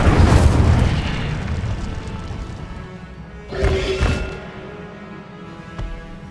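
A whooshing, crackling fire-spell blast from Hogwarts Legacy opens loud and rumbling, fading into a burning hiss, with a second burst flaring up midway.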